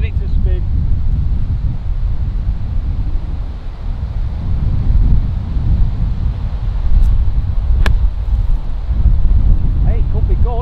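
Gusty wind roars across the microphone on a golf course, a steady low buffeting rumble with slight surges, plus a couple of faint brief clicks.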